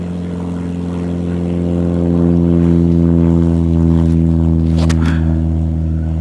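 A small airplane's engine at full power for its takeoff roll drones loud and close, a steady throbbing buzz that swells over the first seconds and holds, with a brief rattle near the end and no voices.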